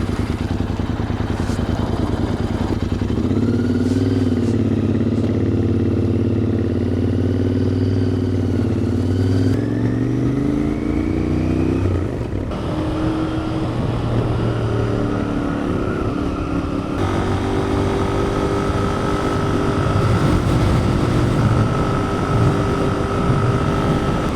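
A Royal Enfield Continental GT 650 motorcycle engine runs close by with a loud, steady drone. The pitch rises and falls with the throttle, and no one speaks.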